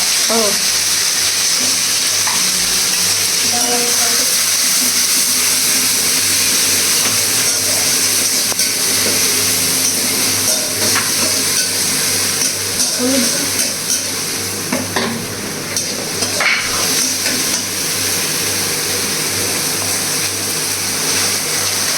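Bay leaf, spices, ginger and chili crackle and sizzle in hot oil during a tempering for a banana-blossom dish, a loud, steady frying hiss with stirring scrapes and occasional voices in the background.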